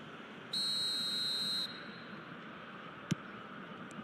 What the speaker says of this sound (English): Whistle's gone, that's foul.